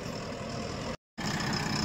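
JCB 3DX backhoe loader engine running steadily in mud, a constant rough drone that briefly cuts out before resuming.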